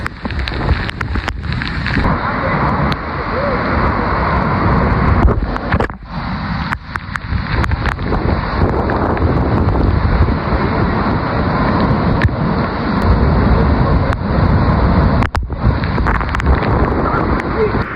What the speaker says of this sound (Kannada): ನೀರಿನ ಫ್ಲೋ ಮಾತ್ರ ಭಯಂಕರ ಇದೆ